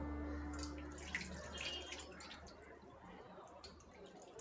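Water spurts from holes in a spinning plastic bottle filled for a tabletop activity, a soft continuous trickle and splatter with faint drips, quiet and close.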